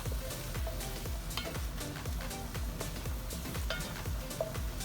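Vegetables sizzle steadily in a hot pan for a vegan Rasta pasta, with a dense continuous frying hiss and occasional stirring scrapes, close and loud without talk.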